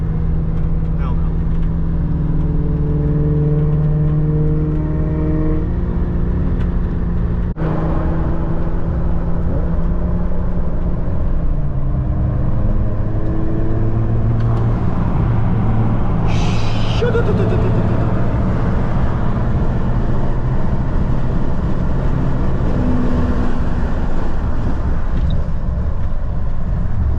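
A Mitsubishi Evo cruises at roughly 60 to 65 mph, with a steady engine drone and road rumble filling the cabin and people talking over it throughout.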